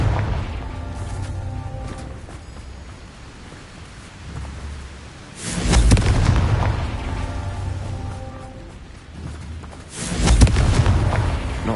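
Two spell explosions from the Confringo fire curse in Hogwarts Legacy on PS5, each a heavy booming burst about five seconds apart, loud and close, over a low steady game ambience with rumbling, rain-like texture.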